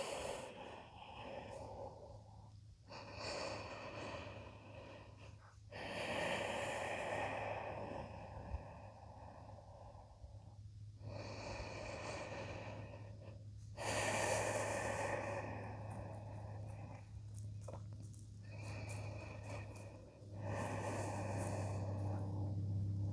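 Slow, steady breathing during a yoga forward stretch, with long rhythmic inhales and exhales through the nose, close and soft, repeating over a low steady hum.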